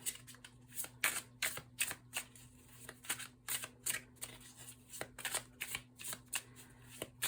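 A deck of tarot cards being shuffled close up, with rhythmic riffling bursts repeating roughly every half second, soft and steady with no talk.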